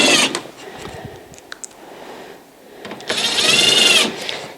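A power driver sets screws into the mounting of a Santa Fe Compact dehumidifier's defrost thermostat. Two short, high whirring bursts sound close by, one at the start and a longer one later, with light clicks and handling noise between them.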